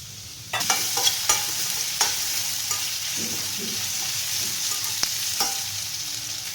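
Carrots, curry leaves and turmeric sauté in a pan with a steady close sizzle. A spoon scrapes and taps against the pan now and then. No one talks.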